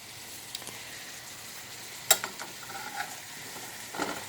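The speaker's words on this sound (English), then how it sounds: "we're just going to stir this around really gently so that nothing falls out of the pan" Vegetables for a homemade vegetable soup sizzle softly in a well-used pan while being gently stirred with a small spoon, with a low steady fry and a few sharp scraping clicks, one louder near the middle.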